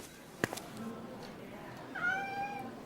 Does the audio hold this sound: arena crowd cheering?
no